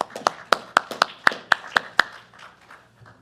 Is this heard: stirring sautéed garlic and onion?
no